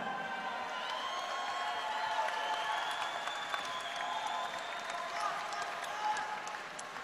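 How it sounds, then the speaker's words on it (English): Audience applause following an MMA bout, a steady wash of distant crowd clapping with faint cheering throughout, heard quietly in an arena setting. "Let's have a round of applause for both fighters."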